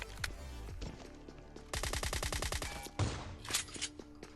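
Rapid automatic gunfire from the mobile battle royale game Scarfall 2.0 rattles in bursts, with a dense stretch of evenly spaced shots in the middle and a few single shots and footsteps around it, fairly quiet overall.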